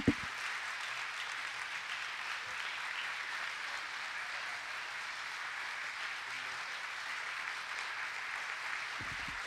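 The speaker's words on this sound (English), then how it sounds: "Would you give him your appreciation and applause?" A church congregation applauds steadily for about ten seconds, a sustained and fairly distant patter of many hands clapping with no pauses.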